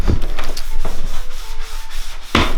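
Hand sanding of a wooden window frame during a bathroom remodel, a close, loud rasping scrub in repeated back-and-forth strokes that continue steadily throughout.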